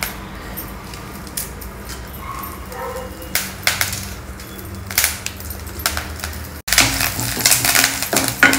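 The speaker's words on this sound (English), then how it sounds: "roast these curry leaves also till they lose all their moisture" Fresh curry leaves dry roasting in a pan without oil give off scattered crackles, light scrapes and sharp little pops, growing busier and louder toward the end.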